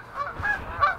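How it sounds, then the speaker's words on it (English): Canada geese give a few loud, nasal honks in quick succession, close by, in a short outdoor burst. "Courtesy of our Canadian geese."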